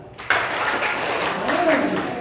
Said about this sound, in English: Let's give them one big clap.